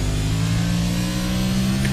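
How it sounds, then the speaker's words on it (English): A NASCAR next-gen car in a racing video game, racing at Martinsville, holds a steady engine whine with layered harmonic drone, loud and continuous throughout, with no talk over it. "Do you hear that whine that has become synonymous with these next-gen cars?"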